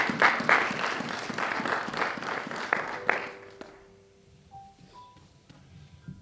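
A church congregation applauding, a burst of dense rhythmic clapping for about three seconds that quickly fades out, leaving faint tones and quiet room sound.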